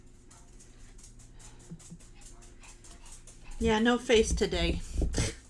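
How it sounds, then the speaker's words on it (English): Penny the dog barks outside, faint and distant in short yips early on, before a nearby person starts talking over the quiet background. "Can you hear Penny barking outside?"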